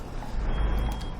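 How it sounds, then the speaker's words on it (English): A truck in the Euro Truck Simulator 2 video game sounds its reversing beeper as a thin, high tone over a low engine rumble, with a brief hiss like an air brake. "oh good, the beeping stopped"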